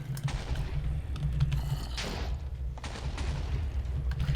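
Gunfire rattles in a video game as a player shoots at a creeper, with several bursts of crackling shots over a steady low background rumble and no talking.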